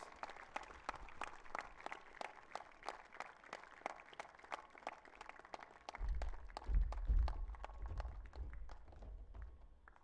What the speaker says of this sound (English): May we have a huge round of applause as Unais Rais and Jaish Nomani make their wa